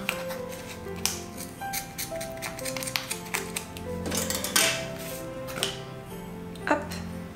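Scissors cutting through a bundle of wool yarn threads for a homemade Christmas decoration, a string of sharp snips and taps at an irregular pace, close and fairly loud.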